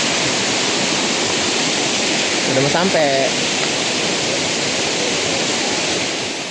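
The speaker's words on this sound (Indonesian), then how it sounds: "Tuh percikan-percikan airnya." Loud, steady roar of the nearby Tumpak Sewu waterfall in Lumajang, Indonesia, fills the whole clip, with a brief spoken phrase partly buried in the rushing water.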